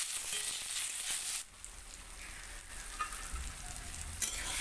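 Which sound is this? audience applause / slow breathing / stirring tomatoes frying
stirring tomatoes frying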